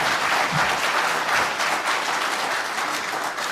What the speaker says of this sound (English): So big round of applause for Justin,